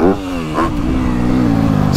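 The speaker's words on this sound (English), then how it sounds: "you roll the throttle, it just got that nice grunt." Engine of a 2024 Yamaha YZ250F motocross bike revving with the throttle rolled on, a loud, close, continuous grunting drone that climbs in pitch, with brief talk layered over it.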